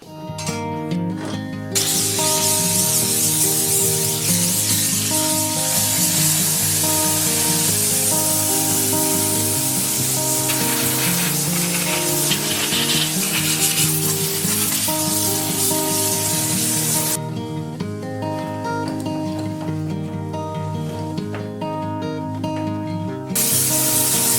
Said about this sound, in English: we'll just give this a bit of a blast with the steamer